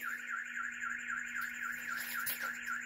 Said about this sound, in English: I just set my car alarm off on accident